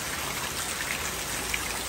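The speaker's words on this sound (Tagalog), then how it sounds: "okay na tong ganitong ulan na guys" Rain falls steadily on a rice farm, a dense even hiss of drops striking surfaces close by with a few sharper drips, and no voices.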